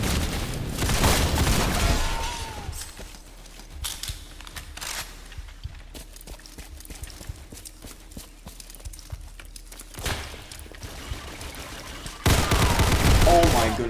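Gunfire in a Roblox war video game, with sharp bursts of shots near the start and end and scattered single cracks in between, over a noisy background.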